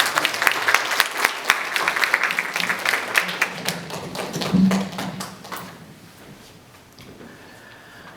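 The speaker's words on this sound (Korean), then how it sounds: "우리 이제 목사님 말씀 올라오실 때 다시 한번 더 뜨거운 박수 드리겠습니다." Warm applause from a church congregation at a Korean community revival meeting in San Diego, welcoming the pastor to the pulpit; dense clapping fills the room for several seconds, then thins and fades into quiet room tone.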